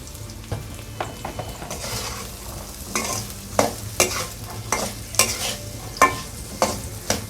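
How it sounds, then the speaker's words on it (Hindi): Chickpeas frying in oil with a little salt for a pickle, with a steady low sizzle and repeated sharp stirring scrapes and clacks against the pan, close and moderately loud. "इनको अच्छे से फ्राई करना है।"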